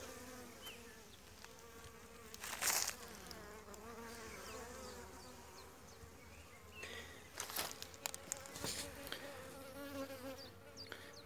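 Honeybees at a weak hive buzz continuously, with individual insects droning close by and passing the microphone, alongside a few faint handling noises.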